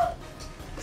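A dog gives a brief whimper and a short yip at the start and end of under a second of sound, fairly close and alone.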